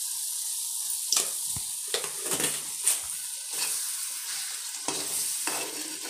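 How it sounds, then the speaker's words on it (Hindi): Cabbage curry being stirred with salt in a sizzling frying pan, with steady frying hiss and irregular scraping stirs of a spoon against the pan, close and moderately loud with no talking. "नमक डाल के इसमें अच्छे से मिला देते हैं"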